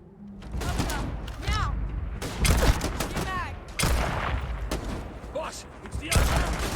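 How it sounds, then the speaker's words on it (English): Sci-fi gunfire in Starfield, with rapid bursts of shots and booming impacts coming in loud waves, mixed with dialogue and shouting voices. "I'm just gonna shoot you then."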